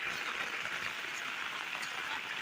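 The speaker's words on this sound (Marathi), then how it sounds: "तिथे जाम धो पाऊस पडलाय" Steady, dense hiss of rain falling hard and continuously, a constant wash of drops with no pauses, fairly close.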